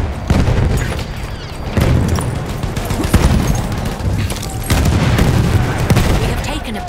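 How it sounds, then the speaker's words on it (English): Battlefield 1 Conquest battle on the Amiens map, loud and dense: repeated booming explosions and heavy gunfire crash over one another, with voices calling out in the mix. "It's grenade!"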